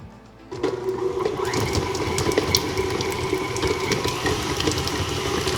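An electric hand mixer starts up and beats soft butter for a fluffy, pale sponge cake buttercream: a steady, loud whirring drone with rattling and scraping of beaters against the bowl, running continuously after a brief quiet start.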